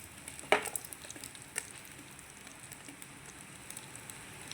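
Chana dal, cumin and mustard seeds sizzling in hot oil for a tomato rasam tempering, a faint crackling hiss with a few small pops and one sharper spatter early.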